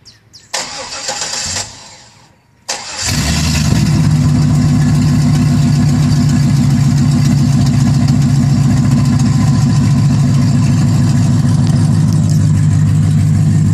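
A 1998 Pontiac Trans Am V8 cranks after a couple of short starter bursts, catches with a loud roar and settles into a steady, loud, rumbling idle up close.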